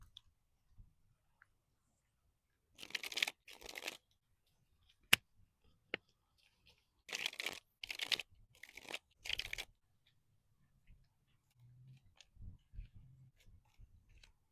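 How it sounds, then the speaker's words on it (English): Tarot cards are riffled and shuffled in several short bursts of crisp fluttering, separated by quiet pauses and a few sharp taps, close up. "Let's shuffle your deck"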